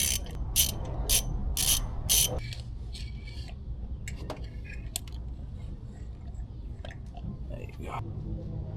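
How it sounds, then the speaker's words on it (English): Ratchet clicking while tightening a spark plug on a Toyota Camry, a quick burst of sharp metallic clicks at first, then scattered quieter mechanical clinks under low talk. "Let's tighten this down."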